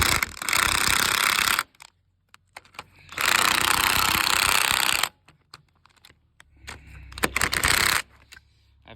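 An impact gun tightens lag bolts in three loud, rattling bursts of hammering, each lasting a second or two, separated by short pauses with small clicks and handling noise.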